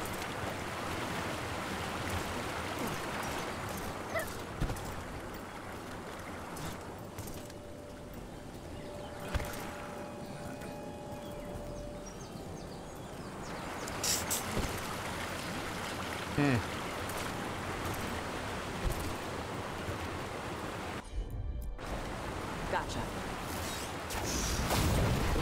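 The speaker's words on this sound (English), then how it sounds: "Look at those waterfalls." A broad steady rush of waterfalls in the video game Dragon Age: The Veilguard, a constant wash of falling water heard throughout, with occasional faint game sounds and brief tones over it.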